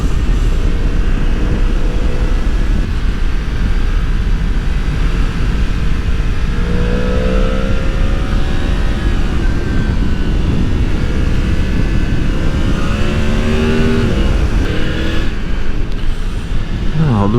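A Yamaha MT-10 with a crossplane four-cylinder engine roars loudly and continuously on a bushy rural road in France, with rising and falling revs under steady wind noise.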